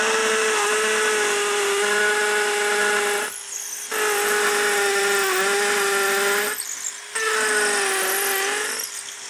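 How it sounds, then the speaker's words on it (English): A close, loud hammer drill with hammer action on whines steadily in three long bursts, grinding into a concrete block wall with brief pauses between runs. "A normal hammer drill is fine for concrete blocks if you just switch the"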